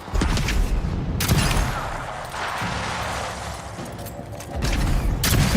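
Rapid bursts of gunfire aimed at a skeleton enemy in the fantasy game Avowed, with heavy booming shots and a sustained rattling volley between them, loud and close, ending in a fresh blast.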